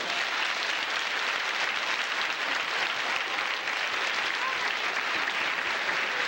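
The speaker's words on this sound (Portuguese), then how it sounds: "Quem concorda com isso, dá uma salva de palmas." Steady, dense applause from an audience at a spiritualist religious gathering, a continuous even wash of clapping lasting the whole stretch with no voices over it.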